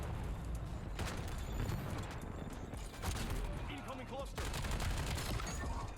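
Bursts of AK-27 assault rifle fire in the video game Black Ops 7, dense and continuous over a busy mix of other battlefield effects, with a voice talking intermittently.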